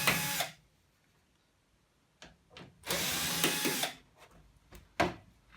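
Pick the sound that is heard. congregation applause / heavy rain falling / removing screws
removing screws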